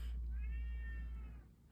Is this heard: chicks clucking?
no